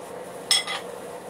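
A metal cooking pot lifted and shifted in a home kitchen, giving one brief clank and clink against other cookware over a soft, steady room hiss.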